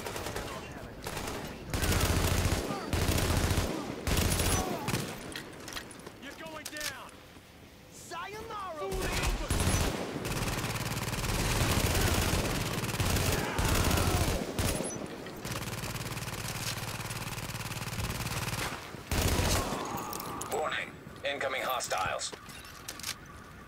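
Gunfire in the video game Tom Clancy's The Division, with rapid bursts and repeated shots in intermittent volleys, heard under and between game dialogue and talk.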